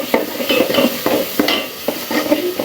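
Spiced chicken masala with salt and cumin powder, fried in a pan for a hot chicken curry, with a steady sizzle and a rhythmic run of close scraping spatula strokes, and no voices.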